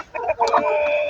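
Chickens at a feeder on a poultry farm give a quick run of clucks and squawks, close and fairly loud, with no talking.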